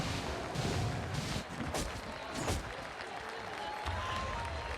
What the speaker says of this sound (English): I said Arteezy and the crowd goes wild.